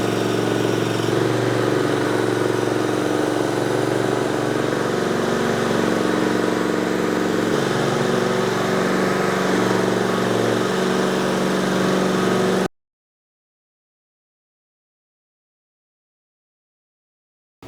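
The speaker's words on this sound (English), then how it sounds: "gonna be using a 3000 grit burnishing pad on our propane burnisher" A propane-powered concrete floor burnisher with a 3000 grit pad drones steadily and loudly, a continuous engine hum polishing a concrete floor for about twelve seconds before cutting to silence.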